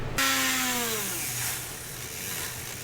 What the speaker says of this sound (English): It'd be a lot easier if I just take all this off and grind it.